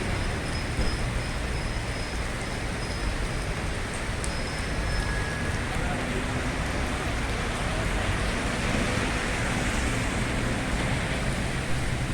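Heavy rain pours down in a dense, unbroken roar, loud and steady throughout, with no voices.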